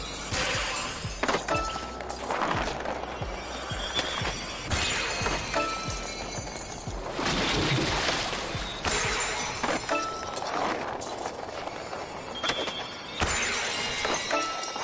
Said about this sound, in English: I think it's just like you're smashing through a crystal